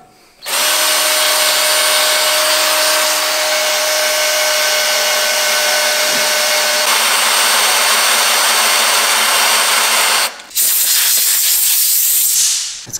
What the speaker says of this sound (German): Gucken, dass ich auch richtig bohre.